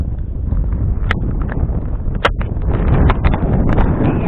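Strong, gusty wind buffeting the microphone on a spring fishing outing, a steady low roar with occasional sharp knocks and crackles, no voices.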